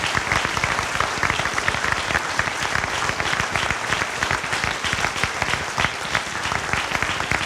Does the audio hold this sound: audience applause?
yes